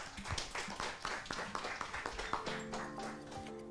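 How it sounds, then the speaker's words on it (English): An audience at a university AI forum event in Indonesia applauds, a steady patter of claps that carries on with some faint tonal sounds toward the end. "Let's give it a round of applause once again."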